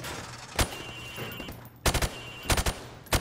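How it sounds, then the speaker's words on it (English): Rifle hip-fired at range targets in Call of Duty Modern Warfare Remastered: a single sharp shot, then a pause and two quick clusters of loud close reports over a steady hum of background noise. "Now, shoot at the targets while firing from the hip."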